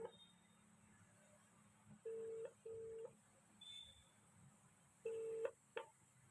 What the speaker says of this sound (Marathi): मित्राला कॉल लावतो, विचारतो त्याला.